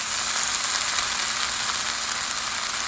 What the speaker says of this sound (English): let's go ahead and add our rice in here